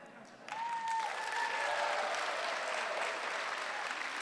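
Applause from a resident graduation ceremony audience swells in at about half a second and holds steady and loud, a dense wash of many hands, with faint tonal traces of a voice or whistle near the start.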